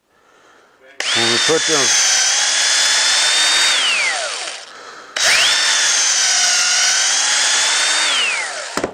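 Power drill driving screws into the cross pieces of a wooden rabbit hutch, two long loud whirring bursts with the motor pitch dropping as each screw seats, and a brief voice just before.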